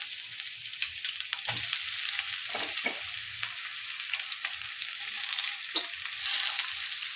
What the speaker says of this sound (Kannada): ಈಗ ಇದಕ್ಕೆ ಹಸಿಮೆಣ್ಸಿಕಾಯಿ ಪೇಸ್ಟ್ ಹಾಕ್ತೇನೆ ನೋಡ್ರಿ